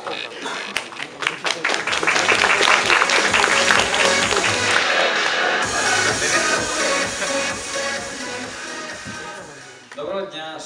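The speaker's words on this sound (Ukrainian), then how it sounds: "ваші оплески" Audience applause at a programming student competition event, dense and loud clapping from a crowd that sustains for several seconds before tapering off, followed by faint shuffling.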